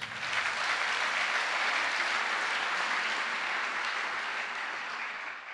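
A church congregation claps steadily to acclaim the Lord, a full, continuous round of applause that swells early and tapers slightly at the end, with no talk over it.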